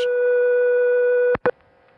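A steady telephone test-line tone holds loud and unbroken for over a second, then cuts off with two sharp clicks and fades into a faint residual hum.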